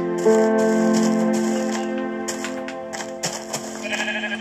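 A Minecraft sheep bleats in a long, wavering cry, followed by softer bleats over faint clicking background noise.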